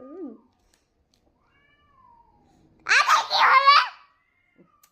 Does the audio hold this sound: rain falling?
no